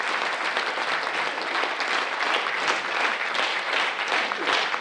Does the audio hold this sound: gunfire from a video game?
no